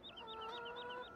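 Chickens cluck in Farming Simulator 17, a quick series of short, repeated squawks sitting over a steady hum, quiet and close, with no talking.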